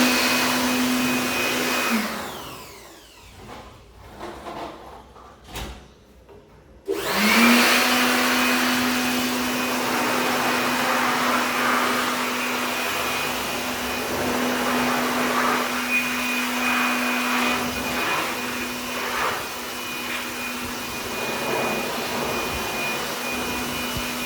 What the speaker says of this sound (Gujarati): ફૂંકણી લઈ અને આપણે આ બારીમાંથી કચરું બધું હોય એ